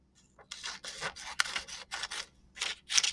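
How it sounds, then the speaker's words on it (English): Scissors cut a sheet of paper during a science class, heard as a series of close, crisp snips in an uneven rhythm, about eight cuts over a few seconds in a quiet room. "Then I'm going to take this sheet of paper. I cut this one in half."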